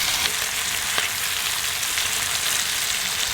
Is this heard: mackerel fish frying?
yes